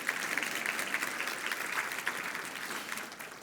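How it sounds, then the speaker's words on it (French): A church congregation applauds during a French-language sermon, with steady, continuous clapping from many hands that holds an even level throughout. "Je pense que ça mérite une main d'applaudissement."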